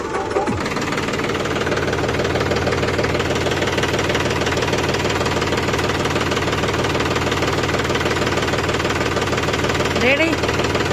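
A John Deere tractor's diesel engine runs nearby with a loud, continuous, rhythmic knocking chug. It holds steady throughout, with a brief rattle near the start and a short metallic clank close to the end.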